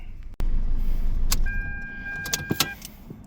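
A car engine shuts off with an abrupt drop near the start, leaving a steady hum and then a few faint clicks and tones of warning chimes inside the vehicle.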